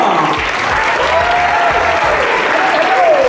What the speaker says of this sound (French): Une grosse applaudissement pour François Touzian!